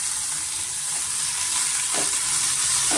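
Fresh spinach fries in a pan over a medium flame for hesaru bele palak dal, giving a steady, even sizzle that hisses close and continuously, with a couple of faint utensil touches and no voices.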